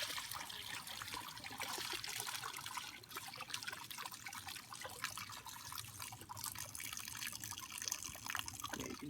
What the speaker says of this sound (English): Shake it around to get some of that stuff